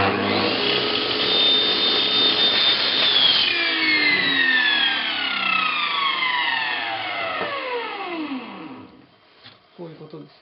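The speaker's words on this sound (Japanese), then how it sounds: "こういうベニヤとか、切るのも簡単に直角切れます。" Sliding table circular saw crosscutting plywood at a right angle: a loud, steady whine that holds, then winds down with falling pitch as the blade spins to a stop, fading near the end.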